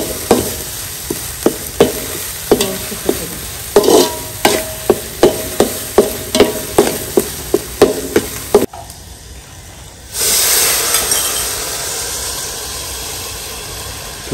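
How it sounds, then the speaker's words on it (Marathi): Masala roasting in oil in a pan over a wood-fired chulha while desi chicken is cooked, with a steady run of sharp spoon scrapes and stirs under a sizzle, then a louder hissing surge near the end; no talking. "चांगला मसाला तेलामध्ये भाजून घ्यायचा आहे."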